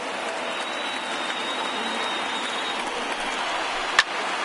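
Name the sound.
baseball stadium crowd applauding, standing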